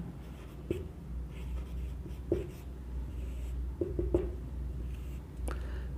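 Pen writing on paper, scratchy strokes in short bursts with taps and pauses, close and quiet, no talk during.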